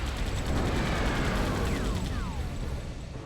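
Gunfire in a giant-ant monster attack video game, heard as a steady wash of distant rattling shots and rumbling blasts, with a couple of whistling, falling tones sweeping through the noise.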